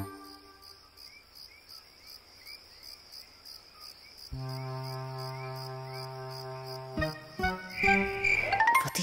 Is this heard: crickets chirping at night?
yes